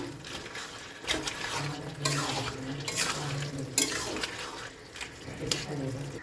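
Fried katla fish head being stirred into a spinach curry in a pan, with irregular scraping and wet stirring strokes that rise and fall in bursts, fairly close but soft.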